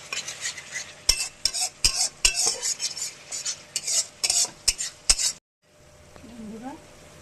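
Mustard paste stirred in sizzling oil in a pan: a rhythmic series of metal utensil scrapes and clinks over a steady frying hiss, ending in a softer sizzle.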